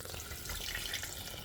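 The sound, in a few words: water poured into a cooking pot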